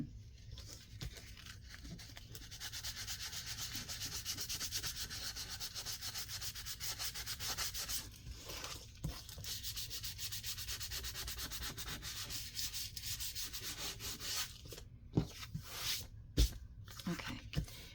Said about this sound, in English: Still like to do a little sanding.